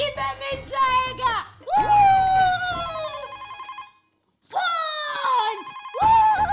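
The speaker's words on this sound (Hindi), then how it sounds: "फोन।" A telephone rings in a home in a family sitcom, playing a repeated melodic ringtone in several bursts with a short pause between them, fairly loud with some background voices.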